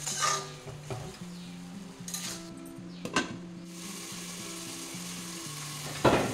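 Marinated chicken stir-fries in a pan, with a soft sizzle running underneath as a spoon scrapes and stirs in intermittent strokes, punctuated by a few sharper clinks of metal against the pan.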